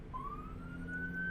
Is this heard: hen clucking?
no